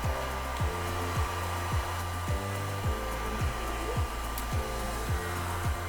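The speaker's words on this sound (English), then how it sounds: "I'm just gonna take my blow dryer here and just allow the air to blow around on the canvas" A hair dryer blows air over a painted canvas to dry it, a steady whooshing hum broken by regular rhythmic pulses as the airflow shifts back and forth; no voices.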